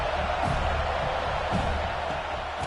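Home crowd in a college football video game, UCLA against Florida State, roaring and cheering as a broad, steady wash of stadium noise with faint thumps in the mix.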